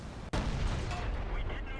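A tank's main cannon fires in World of Tanks, a single sharp, heavy boom with a broad rumbling tail that lingers in game ambience; a voice talks over it.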